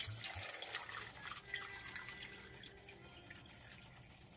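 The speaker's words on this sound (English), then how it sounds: "I'm going to add just enough water to cover them all." Water runs steadily into a cooking pot of serrano peppers with a splashing, trickling wash, fairly close and continuous, with faint clinks at the start.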